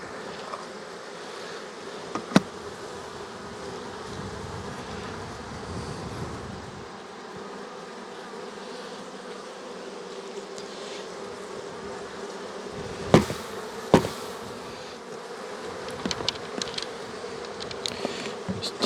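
Honey bees buzzing in and around an open hive during an autumn inspection, a continuous droning hum with a few sharp bumps and knocks, and no talking.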